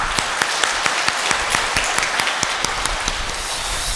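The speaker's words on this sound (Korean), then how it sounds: "우리 환영하면서 박수 한번 치죠" Congregation clapping together inside a Catholic church during Sunday Mass, a steady dense patter of many hands throughout with sharp individual claps standing out, fairly close and alone without talk.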